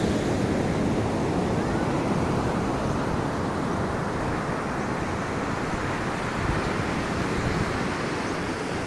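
Continuous roar of surf and breaking waves, broad and steady, with wind buffeting the microphone throughout.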